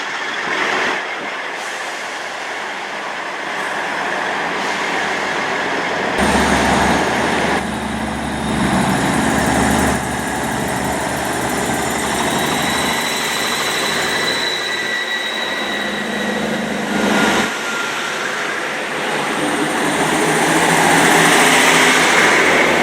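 A Class 158 East Midlands Trains diesel unit pulls out of Chesterfield station, its engine note rising into a steady loud drone with high whine and rail hiss, building toward the end.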